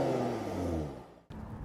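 A 2014 Jaguar F-Type, base model with 340 horsepower, pulls away with a steady engine hum and whir that fades gradually, then cuts off abruptly before a lower rumble resumes; no speech.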